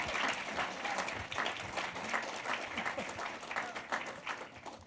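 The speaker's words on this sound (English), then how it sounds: "give them a round of applause for joining us tonight" An indoor audience applauds warmly at an evening law event, a dense, even patter of clapping that continues throughout.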